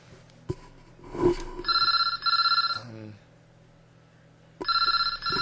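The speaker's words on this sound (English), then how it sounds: "Hopefully the phone stops in a minute, so please ignore the phone." A telephone rings close by in repeated electronic trills, two bursts back to back, a pause, then another burst, with a brief voice sound and room noise early on.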